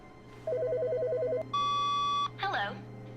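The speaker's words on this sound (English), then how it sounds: "There's a phone ringing?" A telephone rings in a video game: a warbling electronic trill, then a steady tone and a burst of chirpy electronic beeps, close and clear over a low background hum.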